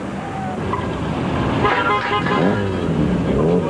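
Car horns honk on a busy street at night after a traffic accident, loud and overlapping with traffic noise and voices talking.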